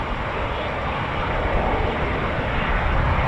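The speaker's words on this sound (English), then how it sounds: "8 Typhoons to go, plus there's another one spooling as well" Eurofighter Typhoon FGR4 jet engines at RAF Coningsby, spooling and taxiing toward the holding points, a steady, loud, close broadband roar that holds evenly throughout with no pauses.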